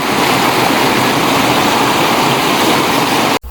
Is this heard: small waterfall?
yes